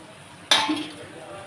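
Raw banana podimas stirred in a pan, a single scraping clatter of spoon against metal, close and fairly loud, then a quieter rustle and a brief clink at the end.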